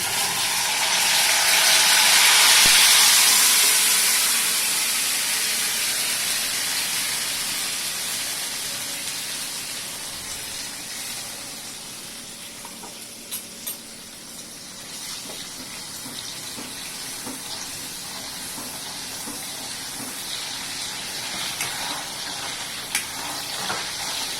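Onion paste frying in hot oil with crackled cumin for a drumstick vegetable curry, giving a broad steady hiss that is loudest at first and then settles into a softer continuous sizzle with occasional faint pops.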